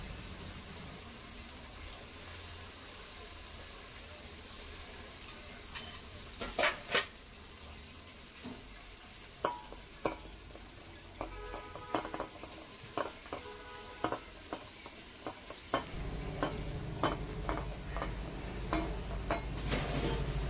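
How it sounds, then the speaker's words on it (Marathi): Vegetables are stirred and sautéed in a pan, a soft steady sizzle punctuated by sharp scraping and clinking strokes of the spoon, growing louder and fuller in the last few seconds. "आता या सर्व भाज्या घालून झाल्या की चांगलं परतून घ्यायचे."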